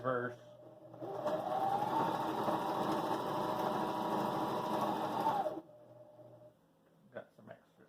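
Reverse stitching through denim jeans on a Husqvarna Viking Emerald 118 sewing machine: a loud, even motor whir for about four and a half seconds, then it stops and a few soft handling clicks follow.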